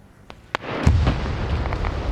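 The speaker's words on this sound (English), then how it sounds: "I think that's the tank on Overwatch firing at him" Distant cannon rounds from a tank in an OFCRA PvP military video game match: two sharp isolated reports, then a heavier booming impact that rolls into sustained rumbling, with no voices.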